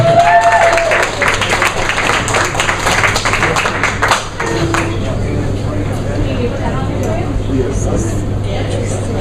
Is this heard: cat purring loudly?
no